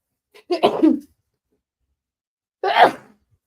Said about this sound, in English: Thought I was going to sneeze.